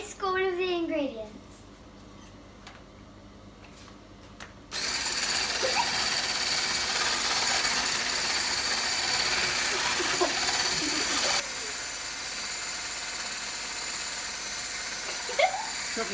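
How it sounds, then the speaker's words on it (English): An electric whisk beats lemon cupcake batter ingredients with a steady, loud mechanical whir for several seconds, then runs on at a lower pitch. A voice is heard briefly at the start. "Whisk all of the ingredients."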